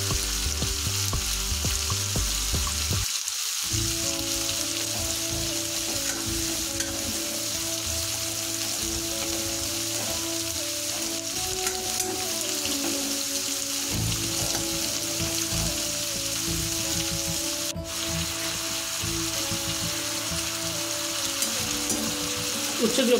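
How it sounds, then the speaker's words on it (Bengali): Bitter gourd pieces, coated in salt and turmeric, fry in hot oil in a kadai, giving a steady close-up sizzle that runs without a break. A brief clatter near the start sounds like stirring. "লবণ হলুদ দিয়ে মেখে রাখা সমস্ত উচ্ছেগুলো ভাজা করে নেব।"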